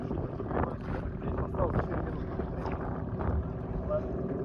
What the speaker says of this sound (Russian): пока у нас мотор просто гудит, мы не прибавляем скорость еще